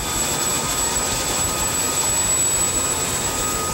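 A military helicopter waits for special forces trainees to board, its rotor and engine making a loud, constant, roaring wash of noise with no break throughout.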